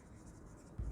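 A pen scratches softly and steadily on paper during an accounting lesson, a brief, faint rasp that ends with a low thump.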